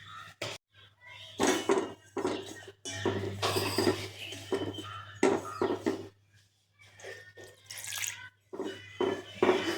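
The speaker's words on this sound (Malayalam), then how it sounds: "എന്നിട്ടത് വെള്ളമൊഴിച്ച് നന്നായി ഒന്ന് മിക്സ് ചെയ്യും" Water is poured into a cauliflower spice mix in a kitchen and stirred, giving intermittent splashing, dripping and light scraping against a bowl, close and soft, with a steady low hum beneath.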